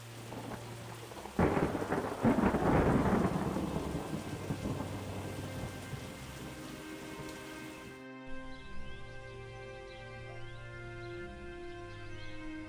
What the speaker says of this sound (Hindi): अचानक गांव में तेज बारिश शुरू हो जाती है